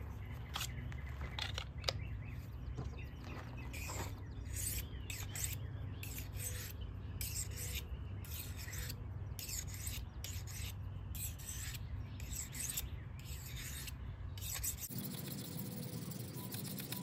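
A cheap bait knife is drawn across the coarse side of a sharpening stone in quick, repeated rasping strokes that stay faint and close, then stop near the end.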